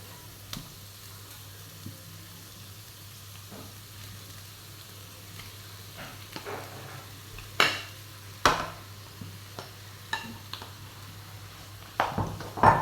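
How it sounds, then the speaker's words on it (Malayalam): Mashed potato goes into a hot pan of frying masala for potato bhaji, bringing a steady soft sizzle, then scattered sharp spoon clinks and scrapes against the pan as the mixture is stirred. "ഇനി നേരത്തെ സ്മാഷ് ചെയ്ത പൊട്ടേറ്റോ ഇട്ട് കൊടുക്കാം"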